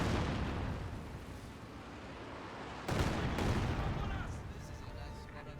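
A Katyusha rocket barrage in the World War II strategy game Company of Heroes 2 roars as a dense, continuous rumble of impacts, with sharper blasts breaking through near the middle.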